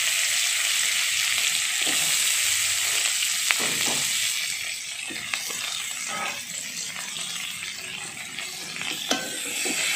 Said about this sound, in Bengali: এবারে এই পেঁয়াজ আর টমেটোগুলো ভালো করে নাড়াচাড়া করে একটু কষিয়ে নিচ্ছি